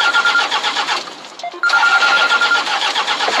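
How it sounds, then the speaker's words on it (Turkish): A car engine cranks and tries to start, with a steady loud mechanical churning, a brief drop near the middle, then a loud return to the same whirring crank. "Hadi Keşan çalıştır şunu"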